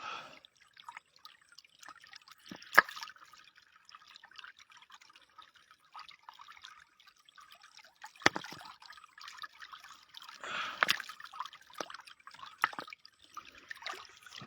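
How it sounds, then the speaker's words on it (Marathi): Water trickles and drips steadily, a soft running stream with scattered splashes and occasional louder gurgles, continuous and close by, heard while catching crabs. "पाणी बी खूप वाहते"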